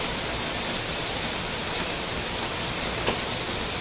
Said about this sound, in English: Can't film when it's raining.